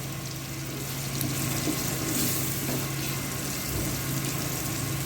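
Green chillies go into okra frying in hot oil for a hotel-style bhindi fry, giving a steady, close sizzle and crackle that runs on evenly with no talk.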